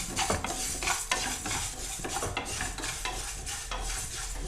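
Fenugreek seeds roasting in a pan for a lemon and bitter gourd pickle give a steady, close dry sizzle, broken by scraping and clinking stirs of a utensil against the pan, with no talking.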